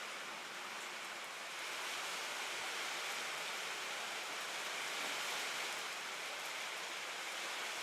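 Rain falls during a softball game rain delay at a ballfield, a soft, steady wash of hiss that swells slightly midway, distant and uniform, with no voices.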